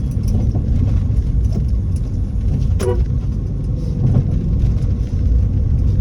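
Steady, loud street traffic with cars and engines idling and crawling in a jam, a continuous low rumble filling the scene, with a brief brighter mechanical tone partway through and no voices.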